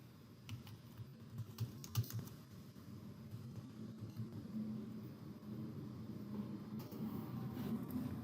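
Quiet keystrokes on a computer keyboard, scattered taps and short bursts over a low room rumble, fairly faint and without talk.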